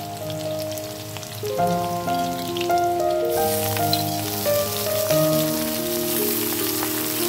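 Spinach tossed into a pan of frying flat beans and potato, a dense rain-like sizzle of oil that swells as the greens go in, heard alone over a steady tonal background.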